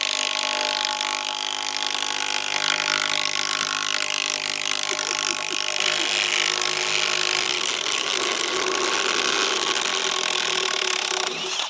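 Milwaukee M12 impact wrenches, a Gen 3 and a Gen 1, run in a race, giving a loud, continuous rattling, hammering whir that holds steady for the whole stretch with no talk.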